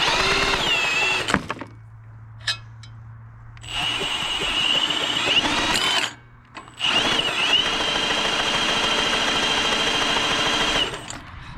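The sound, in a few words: homemade log splitter engine being cranked over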